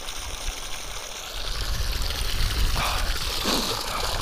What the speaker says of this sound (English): there's actually waves in the creek at this end